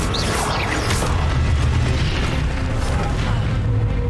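Booming, crackling spell blasts from the Expelliarmus spell in Hogwarts Legacy, several bursts in quick succession over a rumbling combat backdrop, loud and close.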